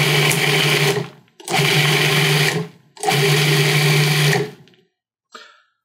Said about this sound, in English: We're just going to process this until it comes together and gets a little smooth.